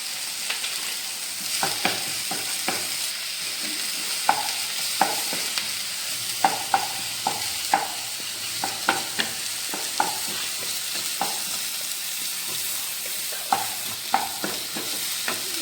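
Onions with ginger-garlic paste stirred in a pan, a steady low sizzle broken by frequent scraping clicks of a spoon, no talking.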